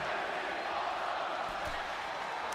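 Wrestling crowd roaring continuously after a superkick at a pro wrestling show, a dense wash of cheering that holds steady and loud for the whole moment, with no clear voices standing out.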